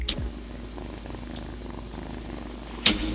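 An orange tabby cat purrs in a steady, low rhythmic rumble up close, with a couple of brief clicks at the start and near the end.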